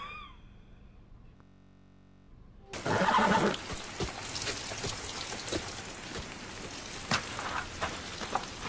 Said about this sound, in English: The horses seem a little spooked to you.